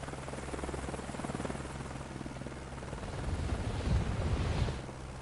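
A helicopter in Microsoft Flight Simulator 2024 drones with a steady rotor chop, rising louder and rougher for a moment near the end before easing back.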